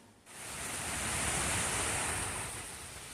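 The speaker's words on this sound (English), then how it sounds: "It's raining again." Rain falls in a soft, steady hiss that swells after a brief quiet start and eases slightly toward the end. It is heard alone, with no voices.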